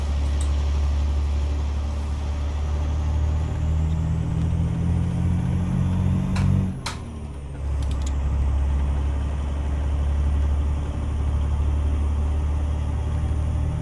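A Freightliner FLC truck with a DD60 engine drives in American Truck Simulator, a steady loud low engine drone that dips briefly as the gear shifts, then resumes.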